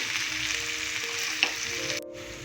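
Finely chopped vegetables and tomatoes for masala poha fry in a pan with a continuous close sizzle, broken by one short clack midway and a dip near the end.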